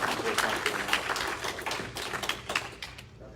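Congregation at a church worship service clapping, a fairly quiet, steady patter of hands with voices faintly mixed in.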